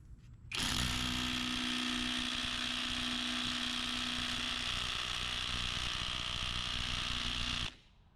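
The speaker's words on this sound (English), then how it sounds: "that's about 7 to 8 seconds of impact there, and the lug nuts didn't move even a little bit" Bauer 20V cordless brushless impact driver on high speed setting hammering on a vehicle's wheel lug nuts, a steady loud rattling buzz that runs continuously for about seven seconds, then stops abruptly.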